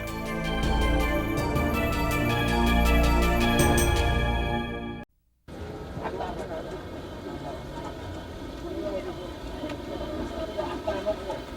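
Subway train riding in Seoul, a continuous broadband rumble and rattle of the car on the rails, loud and steady, with a short cut near the middle and a music bed over the first part.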